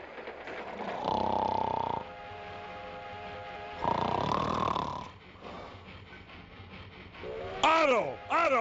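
Cartoon character snoring while asleep near a railway, two long loud rumbling snores with quieter breathing between, followed by rising whistle-like tones at the end.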